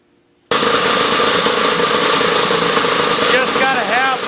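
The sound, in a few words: 1969 Sno Jet snowmobile engine running after first start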